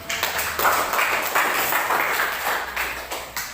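A school class claps hands together in a dense, steady burst of clapping lasting a few seconds, close and fairly loud, with no talk over it.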